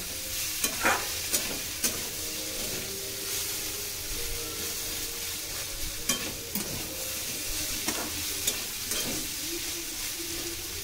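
Aloo chana, potatoes and chickpeas with added sugar, is stirred in a hot pan: a steady sizzling hiss broken by repeated scraping strokes of the spoon, close and continuous, with no talking.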